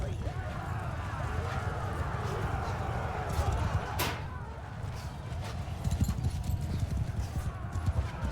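Horses gallop with steady clip-clop hoofbeats through a Mount & Blade II: Bannerlord cavalry battle, a dense rumbling mass of hooves with occasional whinnies and battle noise, while someone talks over it.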